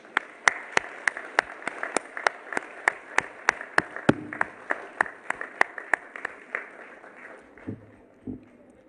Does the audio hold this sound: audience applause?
yes